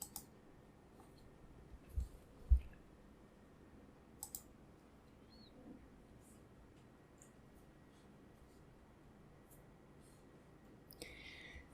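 A few quiet computer mouse clicks while setting up a C# project in Visual Studio 2019, sparse single taps over a faint room hum with no talking.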